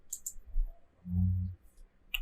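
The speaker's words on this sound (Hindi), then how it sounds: "ओके, तो मैं ओपन पे क्लिक करता हूँ।" A few sharp computer mouse clicks while opening a program in 3ds Max on a desktop, quiet and close with a low hum between, no talking.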